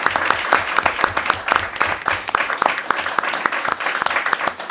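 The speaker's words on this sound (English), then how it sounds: "let's give a round of applause for all the recipients" Sustained audience applause for award recipients at a Winton Woods school board meeting, many hands clapping densely and fairly close for the whole stretch, with no talk over it.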